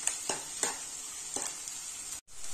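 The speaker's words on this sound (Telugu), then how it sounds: "ఇలా కలుపుతూనే ఉండాలి।" Onions fry in a pan for a potato curry while being stirred continuously, a close steady sizzle with a few rhythmic spoon scrapes and a brief dropout near the end.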